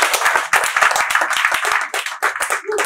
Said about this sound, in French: Je vais vous demander d'applaudir pour le coach Alès.